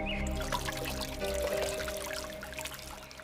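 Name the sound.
water being filled into a clay pot at a pond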